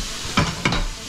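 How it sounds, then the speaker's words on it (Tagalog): Pork sautéing in a pan, a loud continuous sizzle with two quick stirring scrapes, close up and without talk. "Kaya ito naman ay igigisa ko rin ng kaunti."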